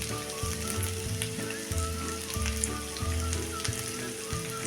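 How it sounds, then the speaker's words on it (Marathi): Rice with cumin powder, coriander powder, chilli powder and sugar is stir-fried evenly in a pan, giving a steady close sizzle broken by regular scraping strokes, with no talking. "आता हा आपण एकसारखा परतून घेऊया"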